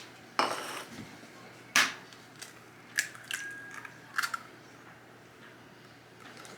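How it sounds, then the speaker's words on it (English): Eggs are cracked one at a time into a bowl in a home kitchen. The sharp taps are sparse and fairly close, separated by quiet pauses. Faint wet clicks and small clinks of shell follow some of the taps. "am going to actually crack them individually into a bowl"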